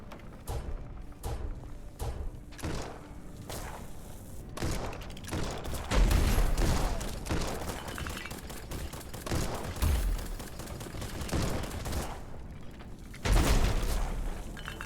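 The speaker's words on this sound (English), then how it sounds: "That was lucky our cannons got him." Repeated cannon blasts in a video game, a run of loud booming shots spread across the stretch, some in quick clusters and heavier thuds near the middle and end, with no talking.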